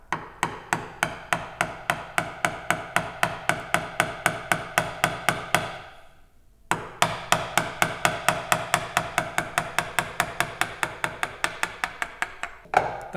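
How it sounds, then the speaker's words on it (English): Mortise chisel driven by hand into wood to chop a mortise for a mortise-and-tenon joint: a rapid, even run of sharp mallet strikes, close and loud, pausing once briefly before the steady chopping resumes. "the mortise chisel is going to be a perfect fit for this, so I'm just going to get that precisely between those lines"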